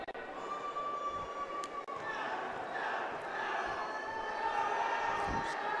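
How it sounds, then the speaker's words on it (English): A high school boys basketball crowd in a packed gym jeers a free throw shooter who has missed three straight, a sustained roar of voices and whistles that swells and stays loud throughout. "Crowd letting him hear it tonight."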